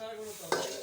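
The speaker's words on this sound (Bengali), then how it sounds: "এই যে মশলা কষানো হইতেছে।" Spices frying in a pan, a soft low sizzle broken by one sudden stirring scrape partway through, close and fairly quiet.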